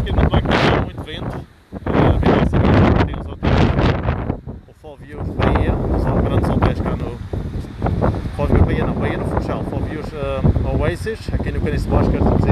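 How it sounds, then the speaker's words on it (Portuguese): Strong gusting wind buffets the microphone on the seafront at Caniço de Baixo, Madeira, a loud rumbling roar that rises and drops throughout while a person talks over it. "Infelizmente hoje não temos conseguido muito bem, porque há muito vento."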